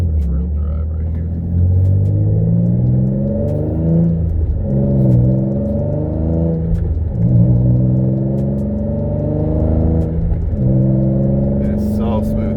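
An Infiniti G35 Coupe with a six-speed manual and an upgraded single-piece aluminum driveshaft accelerates hard through the gears, its engine rising and dropping at each of several shifts, heard from inside the car, loud and continuous.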